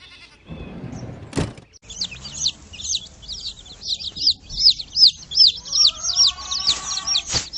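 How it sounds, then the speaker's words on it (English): A hen clucks in a steady run of quick, close, fairly loud calls, preceded by a short sharp knock and some rustling. "Hen."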